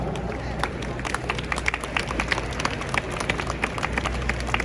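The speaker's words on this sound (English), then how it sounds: "Give them a big round of applause for that." An audience at a classic car show at the NEC claps in a scattered burst of applause, sharp hand claps popping over crowd murmur at moderate volume.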